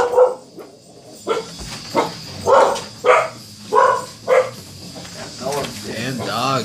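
Dogs bark in a series of loud, spaced woofs close by, five or six in a row, then whimpers and yips follow near the end.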